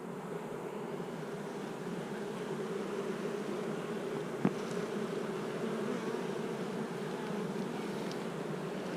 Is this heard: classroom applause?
no